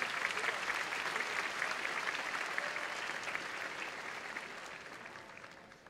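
Sustained applause from a large crowd for Mayor DeStefano at a 2018 undergraduate commencement ceremony, dense clapping that slowly fades toward the end.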